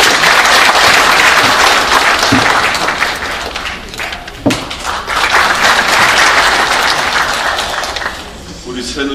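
Loud, dense applause from a large audience at a political party gathering, sustained for several seconds with a brief dip and swell partway through, with some voices underneath.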